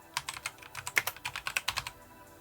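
Fast, irregular clatter of keys on a computer keyboard, typing a short search word in a design app, close and fairly quiet with no voices over it.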